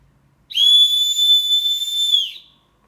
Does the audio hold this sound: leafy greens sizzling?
no